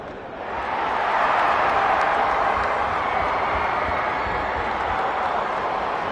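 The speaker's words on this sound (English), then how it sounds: "The crowd already making plenty of noise as the captains come together." A football stadium crowd roars before an AFL match between North Melbourne Kangaroos and Fremantle Dockers, a broad steady wash of distant cheering and noise that swells in and holds loud throughout.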